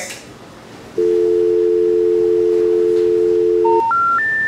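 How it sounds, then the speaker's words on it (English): Touch-tone telephone keypad tones sound alone: one long steady beep held for about three seconds, then a quick rising run of three short higher beeps, loud and close with no talking. "The number you have dialed has been changed."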